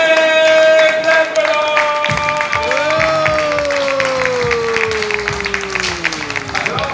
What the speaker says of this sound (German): Ansonsten würde ich Sie bitten, jetzt mit einem tosenden Applaus ihn zu begrüßen